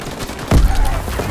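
Gunfire from a Call of Duty WW2 match, a single loud burst with a heavy low-end thump halfway through, trailing into rumble and faint game noise.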